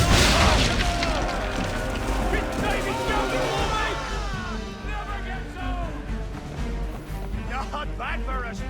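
Ship's swivel guns in Assassin's Creed III strike powder barrels, setting off a heavy boom and then a rumbling wash of explosions and battle noise, while voices talk and shout over it throughout.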